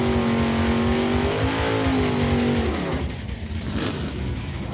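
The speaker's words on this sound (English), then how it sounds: "Nice burnout." A 1968 Chevy Camaro does a burnout at a drag strip, its engine roaring loud and steady with a rising rev tone, then dropping into a rougher rumble with tire noise toward the end.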